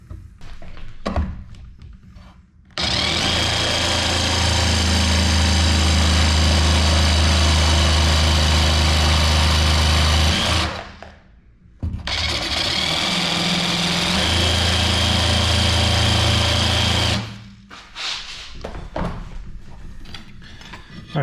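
A jigsaw cutting through ceramic tile, two long bursts of loud buzzing motor and grinding blade, each several seconds, separated by a short pause with quiet handling noises before and after.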